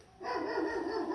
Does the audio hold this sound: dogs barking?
yes